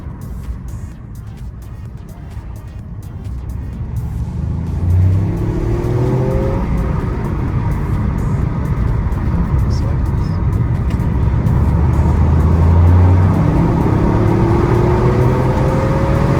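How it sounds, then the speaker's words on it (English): Toyota GR Yaris three-cylinder engine with a slightly unusual raspy note, accelerating while a voice talks over the loud, close cabin drone. "I suppose that's partly the 3-cylinder, isn't it? It has that kind of slightly unusual rasp."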